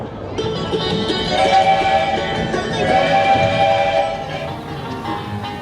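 A small amusement park train at Cedar Point rumbles and clatters along with a continuous mechanical drone and whistle-like tones, fairly loud and close, with faint voices underneath.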